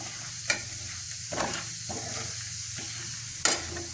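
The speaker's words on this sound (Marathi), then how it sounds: "आता थोडीशी डाळ लालसर परतून घेते आता ही डाळ पण आपल्या छान अशी तळून घ्यायची आहे" Dal frying in hot oil for a crab curry: a continuous close sizzle with soft stirring scrapes and two brief clicks of a spoon against the pan.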